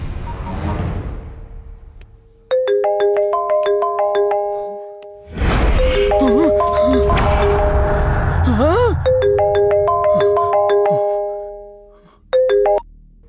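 A phone ringtone plays a repeated electronic chime melody in bursts, loud and near, broken by a stretch of dramatic music and voices in between.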